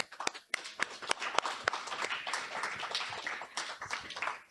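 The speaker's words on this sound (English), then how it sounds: "let's give Peng another round of applause" Scattered, uneven clapping from a small audience at an open mic night in Toledo, sharp individual claps over a soft background murmur.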